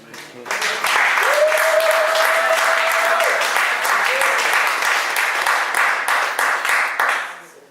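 A church congregation breaks into loud, sustained applause, dense clapping that holds steady for several seconds before tapering off. Scattered voices and cheers rise within it.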